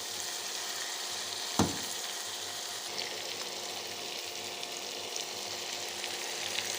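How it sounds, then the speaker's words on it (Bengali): Eggs and cauliflower fry together in a pan with spices, giving a steady sizzle throughout, with a single sharp utensil knock near the start and light stirring scrapes. "ডিম আর ফুলকপিগুলো আর একটু ভেজে নিব।"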